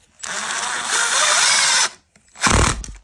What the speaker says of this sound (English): impact drill, love it